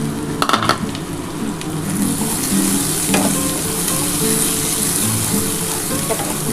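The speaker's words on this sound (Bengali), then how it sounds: "আলুটা দিয়ে খুব ভালো করে মশলাটা কষিয়ে নিতে হবে" Potatoes fry with spice masala in a pan, a loud, steady close-up sizzle under repeated stirring and scraping, with a few sharp knocks of a spoon on the pan at the start.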